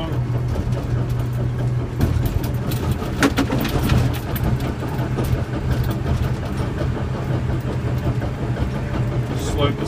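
A CAT D5K2 dozer engine runs at a steady, loud, droning rumble as it powers up and travels, with a constant low hum and mechanical clatter, and someone talking over it.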